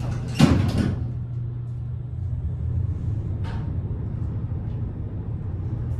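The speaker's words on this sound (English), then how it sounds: "And the door close button works." A resort elevator door shuts with a sharp thud and brief rattle near the start, followed by a steady low hum of the car, with a faint second knock partway through.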